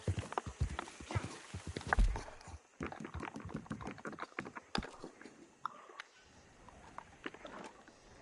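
Horse hooves clip-clop in the Red Dead Online video game, an irregular run of sharp hoof strikes close by with varying loudness, broken by brief pauses and faint voice in the background.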